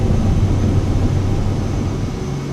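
Cirrus Vision Jet on its takeoff roll in Microsoft Flight Simulator 2024, a loud, steady jet roar with broadband hiss and a sustained whine, continuous and close throughout.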